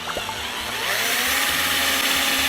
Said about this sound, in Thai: เจาะลงไป